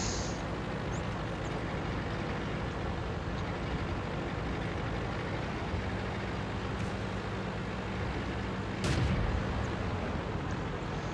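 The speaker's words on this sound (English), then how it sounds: "I'm going to put some good shots into him." A Soviet KV-1 Tier V heavy tank in World of Tanks rumbles steadily at low volume, then fires a single booming cannon shot near the end.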